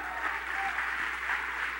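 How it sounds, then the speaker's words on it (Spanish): A church congregation applauds steadily, a soft, distant wash of clapping that holds evenly throughout with no voices over it. "Dele otro aplauso a mi madre"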